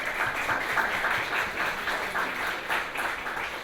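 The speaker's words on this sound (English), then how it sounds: "We really appreciate a round of applause." Steady applause from a crowd, a dense wash of clapping that holds at an even level throughout.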